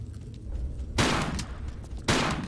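Two loud bursts of gunfire aimed at a beast in a Tomb Raider custom level, each a sharp blast with a fading tail, about a second apart over low background ambience.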